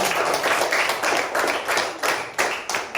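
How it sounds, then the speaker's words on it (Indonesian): Pupils in a sixth-grade classroom clap together for a classmate, a crowd of hands beating in a loose, fairly quick rhythm, close and moderately loud. "Tepuk tangan untuk saudara."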